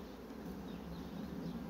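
Honeybees buzz softly at a beehive frame during hive work, a faint, steady, low hum with no voices.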